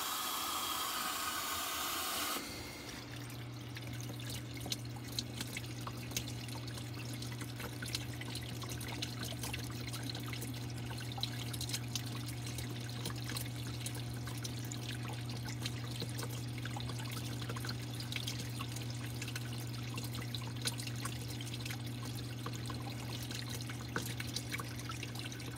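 A Kenmore Elite Calypso washer fills with water, a steady low hum and soft running hiss that keep going evenly from start to end after a brief louder burst at the start.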